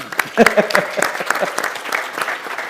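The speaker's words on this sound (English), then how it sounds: "That's worth a clap as well." An audience claps at a conference event, a dense burst of applause that starts strong and carries on steadily at close range, with a voice or two mixed in.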